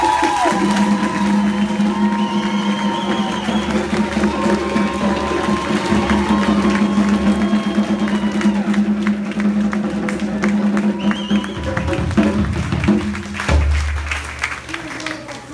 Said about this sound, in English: I want everybody to stand up on their feet and give a loud applause for Mama LaBerta.